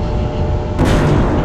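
Torpedo launch in the Star Traders space combat game, a sudden heavy boom-like blast cutting in partway through over a loud, dense rumbling background.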